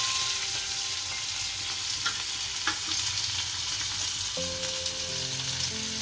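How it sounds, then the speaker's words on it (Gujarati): Steady, loud sizzling of onions frying in hot oil, a continuous crackle with occasional scrapes of a spoon, no voices. "હવે કાંદા નાખીશું."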